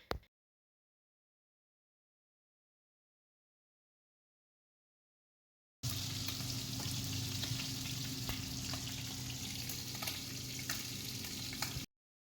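Burger patty frying in a pan, a steady, even sizzle that starts abruptly after a long stretch of silence and runs for about six seconds before cutting off.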